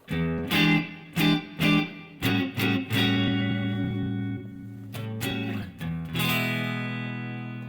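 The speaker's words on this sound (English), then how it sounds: "right now it's an overdrive" An electric guitar through an overdrive setting on a Headrush amp-modeling unit plays crunchy chords, several short stabs then longer sustained strums, with a gritty, saturated tone and no voices.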